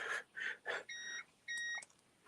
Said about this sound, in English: if you hear the beeping, that's my power supply